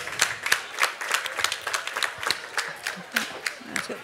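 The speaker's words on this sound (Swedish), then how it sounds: "En applåd." A small group claps in uneven, moderately close bursts of applause indoors at a cooking competition heat, rhythmic hand claps continuing steadily without voices over them.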